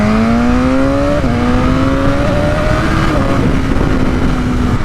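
BMW S1000RR superbike on the move, its engine droning loud and steady with pitch stepping up through gear changes, a faint exhaust burble or pop within the continuous roar and wind rush.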